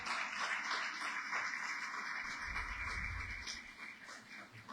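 A church congregation applauds, a dense, steady wash of clapping that carries on evenly for several seconds before thinning slightly, with no talking over it.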